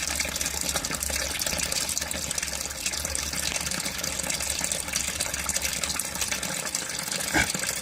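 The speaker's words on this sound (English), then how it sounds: "See the amount of water that's going in through there. And just watch as it's coming out." Water gushes through a drain into a sump pit while the pump is off, making a steady, close, continuous splashing flow.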